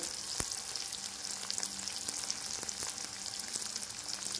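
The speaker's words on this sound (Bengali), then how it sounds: "কি পটপাট করে ফাটছে" Onions and coriander leaves crackle and sizzle in hot oil in a pan, a steady, faint frying hiss with sporadic sharp pops, and no talking.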